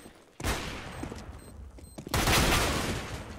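Rapid bursts of Tech 9 pistol gunfire in a close-quarters Counter-Strike round on Cobblestone, loud and dense, with a brief lull before a second heavy burst of shots.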